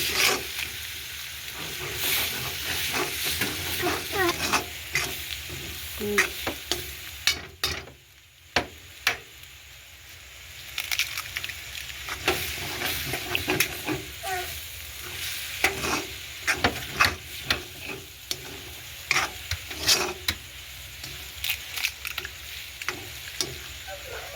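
Eggs frying in a pan and being stirred, a sizzling hiss under frequent clicking spatula scrapes, with a short lull before the stirring picks up again.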